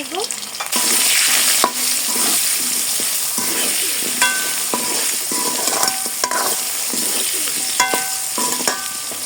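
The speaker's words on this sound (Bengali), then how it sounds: "এখন আলুগুলো হালকা ভেজে নিব" Steady oil sizzle of potatoes frying in a pan with a little salt and turmeric, with occasional scrapes and clinks from stirring throughout.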